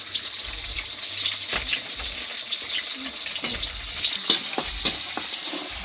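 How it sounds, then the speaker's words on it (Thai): Fried rice stir-fried in a wok for a customer gives a loud, continuous sizzle, broken by frequent metal spatula scrapes and clanks all the way through. "ผัดข้าวผัดส่งลูกค้า"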